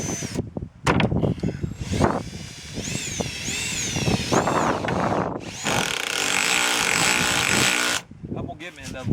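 Power drill bores into a wooden structure being reinforced against storms, the motor whining in long, loud bursts that rise and fall under talk, with gloved handling noises between runs.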